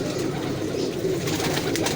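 Soft, low cooing of Rampuri pigeons murmurs continuously through a steady outdoor background, with no talking.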